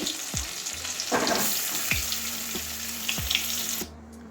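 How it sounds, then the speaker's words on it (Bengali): Medium-sized pieces of boiled egg frying in hot oil in a pan, a steady close sizzle with a few sharp spatula knocks and one louder burst of spitting, no one talking. "বাকিগুলো এভাবেই ভেজে নিচ্ছি"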